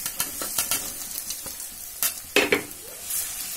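Urad dal goes into a hot pan for kachori filling and is stirred with sharp scraping strokes, gentle sizzling running beneath the irregular clinks and scrapes of the spoon.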